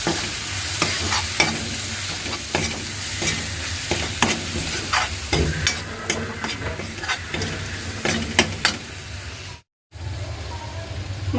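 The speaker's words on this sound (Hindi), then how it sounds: "मसालों को अच्छे से भून लेंगे।" Ground spices with Kashmiri red chilli frying in a pan, a steady close sizzle with repeated scraping stirs throughout and a brief silent gap near the end.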